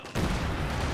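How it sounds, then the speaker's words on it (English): A 120mm mortar round lands in the strategy game Company of Heroes 2, a sudden heavy blast after a short quiet moment that rolls on as a dense, sustained rumble. "Massive 120mm mortar hit there."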